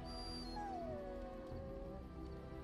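A mabari war dog in Dragon Age: Origins whimpers in a single high, drawn-out whine that slides downward, close and clear over a steady game background, with no talking.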